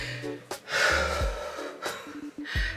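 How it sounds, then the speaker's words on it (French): A woman, out of breath, pants with repeated gasping, snorting breaths, close and fairly loud, broken by brief low bumps. "je suis essoufflée"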